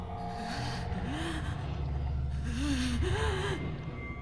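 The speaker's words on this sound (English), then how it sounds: "I hear what sounds like pained breathing." Pained, labored breathing from the video game Spirit Hunter: NG, heard behind a sliding door in an attic: several strained, wavering gasps and moans over a low droning background.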